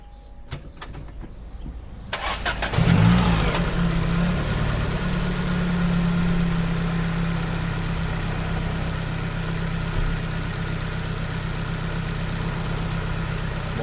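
A car engine cranks and catches after a rocker cover repair, then settles into a steady, even idle that runs on close by without talk.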